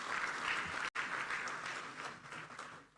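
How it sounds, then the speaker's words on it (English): Audience applause at a parliamentary conference hall, a dense, steady wash of clapping that drops out for an instant near the start, then carries on and gradually fades toward the end. "Please, another applause for these two speakers."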